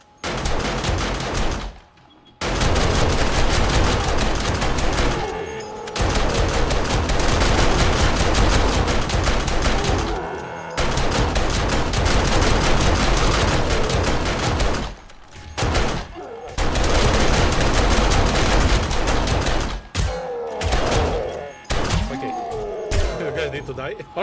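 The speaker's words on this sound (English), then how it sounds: "Alright, so the SMG turret is working." SMG turrets in the video game 7 Days to Die fire long, loud bursts of rapid automatic gunfire, broken by brief pauses and several separate volleys.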